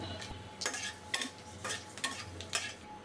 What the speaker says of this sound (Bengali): এর মধ্যেই দিয়ে দেবো তেল, ফোড়নে দেব শুকনো মরিচ, তেজপাতা, জিরে, দুটো এলাচ মুখ ফাটিয়ে